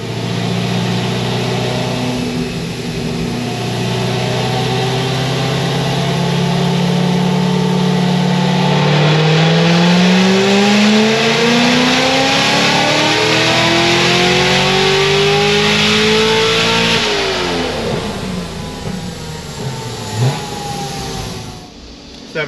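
A Corvette ZR1 with a stock bottom end revs hard on a dyno, its loud engine note climbing steadily through the rpm range toward about 6,700 before the throttle lifts and the pitch drops near the end.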